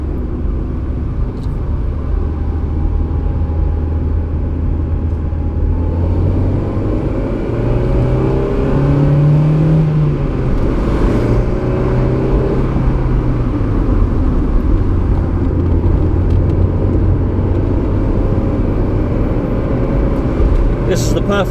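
A car engine hums and rumbles steadily from inside the cabin, rising and falling slightly as it drives along, with road noise throughout.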